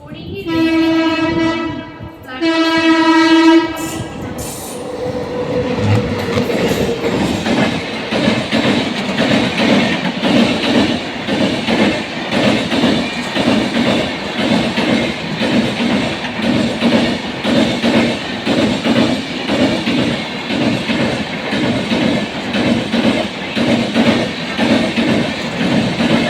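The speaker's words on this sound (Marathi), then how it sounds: "एक जलद गाडी जाणार आहे." A fast train passes through an Indian railway station, opening with loud blasts of its horn, then a long steady roar and rhythmic clatter of coaches rushing close by the platform.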